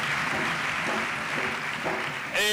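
A church congregation applauds in a dense, continuous wash of clapping that fills the room, ending abruptly as a voice comes in.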